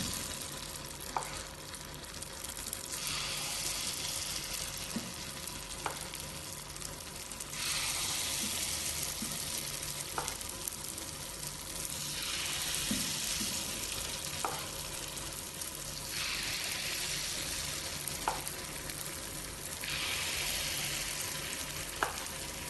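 Oats and jackfruit unniyappam batter frying in hot ghee in a paniyaram pan, a steady close sizzle that swells and settles in waves, with faint occasional taps and no talking.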